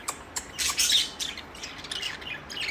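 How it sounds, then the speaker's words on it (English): A budgie chirps and squawks close by in short, bright bursts, with a louder cluster early on followed by scattered softer tweets. "Cute Budgie."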